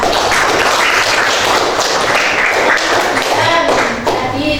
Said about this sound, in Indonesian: Beri tepuk tangan untuk dia.